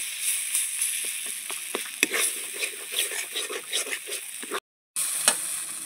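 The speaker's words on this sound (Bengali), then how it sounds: "এবার ডাল বাটাকে একটু কষিয়ে নেবো" Chana dal paste being sautéed in a pan for a vegetarian potol dish: steady close sizzling with scattered spatula scrapes and stirring taps, cut by a brief silent gap near the end before the frying resumes.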